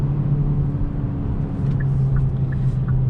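Steady low cabin rumble of a 2022 Hyundai Elantra N Line on the move, an even engine and road drone heard from inside the car.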